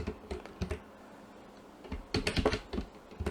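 Keystrokes on a computer keyboard during software editing, an irregular cluster of near, crisp taps with a pause in the middle, then a denser burst of clicks.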